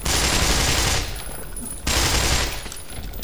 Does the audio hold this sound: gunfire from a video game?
yes